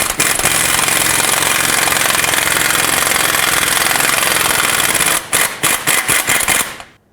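Lower sway bar link bolt coming off a 2008-2010 Ford F-250 front suspension with an 18mm tool: a loud, continuous rattling mechanical buzz for about five seconds, then several short sharp bursts before it stops.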